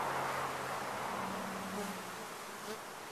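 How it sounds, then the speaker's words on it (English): A dense swarm of honeybees buzzes steadily and close by during a bee removal, a continuous droning hum with no voices. "This is swarm bees right here."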